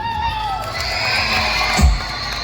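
A crowd at a live music show where a popular singer performs a song cheers and shouts loudly and continuously, a dense roar of many voices close by with a brief louder swell near the end.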